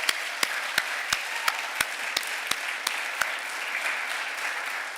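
Audience applause at a ceremony for a valedictorian, a dense wash of clapping with a few sharp, evenly spaced claps standing out near the front over the first few seconds before settling into steady crowd applause.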